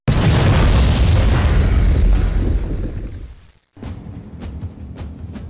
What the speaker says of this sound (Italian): L'esplosione è devastante